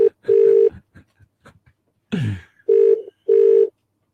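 Telephone call being placed: bursts of dialing tones, then a sweeping ring signal and two long, loud ringback tones with short gaps between them, heard alone and up close.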